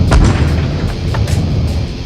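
A heavy boom strikes as a KV tank's shell hits the player's tank in World of Tanks Blitz, one loud close impact followed by a lingering rumbling roar and a few smaller thuds.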